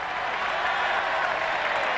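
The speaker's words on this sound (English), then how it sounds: "The crowd will pick up on it here, and you'll hear a ripple of applause." Stadium crowd at a 1997 Colorado versus Texas college football game breaks into a ripple of applause for a backup quarterback, a continuous, distant wash of clapping and crowd noise without a clear break.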